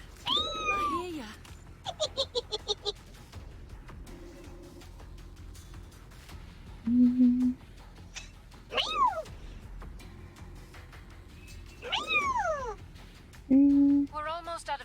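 A cat meows repeatedly in short, rising and falling calls spaced across the stretch, heard close and clear while people talk in the background.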